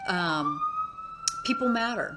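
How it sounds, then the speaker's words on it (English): A wailing emergency siren sweeps in the distance, its steady tone running faintly beneath a person's talking throughout. "I don't know if you can hear the siren in the background"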